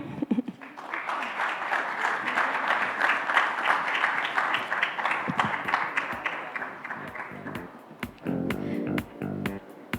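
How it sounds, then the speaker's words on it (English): Audience applause after a talk on whether Indians will pay for content, a full room clapping steadily for about eight seconds before thinning into scattered claps and a brief voice near the end. "give her a little louder round of applause"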